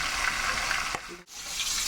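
Katla fish head frying in hot oil, a steady broadband sizzle that runs throughout, broken by a brief dip near the middle before the crackling resumes at the same level.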